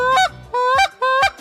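A duck call blown badly by an inexperienced hunter, three loud, close, honking blasts in an even rhythm, each short and harsh with brief gaps between.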